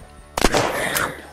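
Gunfire in the survival video game Unturned, a sharp burst of a few rapid shots followed by a sustained ringing, rumbling tail, loud and close with no talk.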